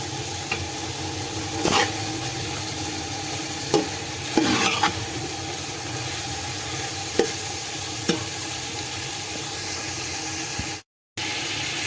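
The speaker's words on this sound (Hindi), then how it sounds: "लाल मिर्च और कुटा धनिया और काली मिर्च डालकर भून लें। मसाले को अच्छी तरह से पकाएं। फिर चने डाल दें।" Chickpeas fry with red chilli, crushed coriander and black pepper in a pan, a constant sizzle broken by repeated scraping stirs and a brief dropout near the end.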